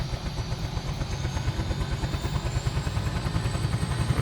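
Huey helicopter turbine spooling up in Microsoft Flight Simulator, a steady low rhythmic thumping with a faint rising whine above it, moderately quiet and continuous.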